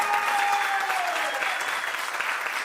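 An audience applauds a guest speaker at a panel discussion, a dense burst of indoor clapping that stays steady and slowly thins over a few seconds.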